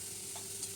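Vegetables, beans and tomatoes among them, sizzle softly in a pan while being stirred for a vegetable dal, a faint steady hiss with a light scrape, brief and close.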